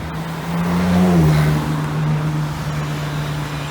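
Ferrari 812 Competizione passing on a road, a V12 engine note swelling as it approaches and sweeping down in pitch as it goes by, then fading into a steady distant drone.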